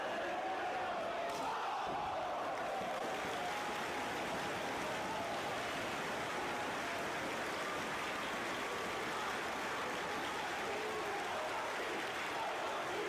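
A sold-out wrestling arena crowd at the Samoa Joe vs Kenta Kobashi match roars in a dense, continuous wash of cheering that stays loud and unbroken throughout.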